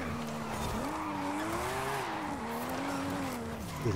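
A 620 hp RB26-powered Nissan S15 drifts in Forza Horizon 5, its tires squealing in a sustained, wavering screech over a steady, loud engine drone that runs continuously for the full stretch.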